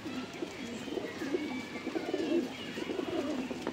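Punjabi Malwai pigeons cooing softly and steadily, several birds overlapping in low, burbling calls at a moderate distance, with no talking.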